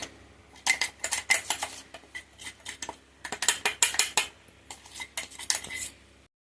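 A spoon scrapes and clinks against a bowl while ground mustard, fenugreek and cumin powder is mixed into cucumber pieces for a cucumber pickle. Two close, rhythmic bursts of metallic clatter are heard, with no talking.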